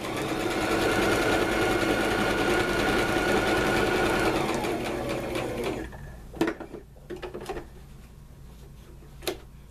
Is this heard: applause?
no